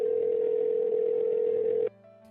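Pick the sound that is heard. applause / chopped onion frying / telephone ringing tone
telephone ringing tone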